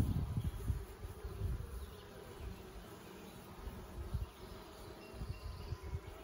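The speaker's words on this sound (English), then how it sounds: "This hive is raring to go." Honeybees in an open hive, a low steady buzzing hum that swells and eases slightly throughout, close and fairly quiet, with no talk.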